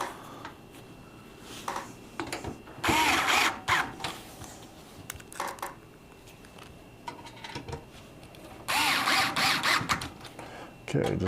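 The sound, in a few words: screwdriver tightening power supply screws in PC case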